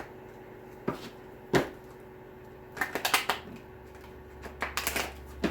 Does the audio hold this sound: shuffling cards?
yes